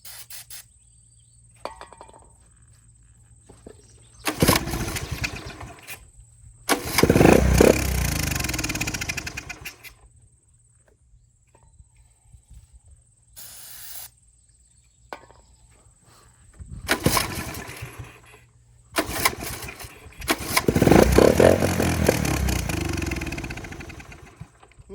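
An old three-wheeler ATV engine cranks and sputters in several separate bursts with quiet gaps between, each attempt briefly catching and revving roughly before dying, close by with no talking.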